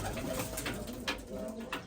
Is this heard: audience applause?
no